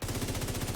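Rapid automatic gunfire from the Division 2 video game, a fast even stream of punchy shots with heavy recoil, loud and steady for under a second, with no talking.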